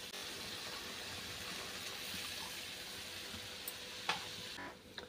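Chole gravy sizzling and bubbling in a pan as water is poured in and stirred, a steady close frying hiss with a brief splash near the end.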